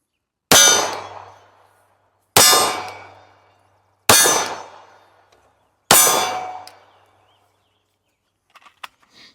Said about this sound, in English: shots on steel, transition to the hostage target